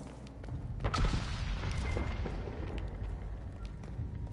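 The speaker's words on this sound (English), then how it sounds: "There was just this explosion." An explosion in the video game Dragon Age: Inquisition rumbles as a low, muffled boom with a short burst of debris-like crackle, followed by a lingering deep rumble at moderate level.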